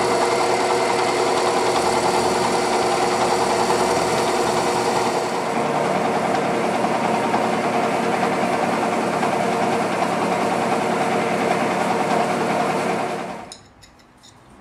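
A milling machine cutting a hole in a Kato ES44AC model locomotive frame gives a steady high motor whine with faint vibration, running continuously and close until it spins down just before the end.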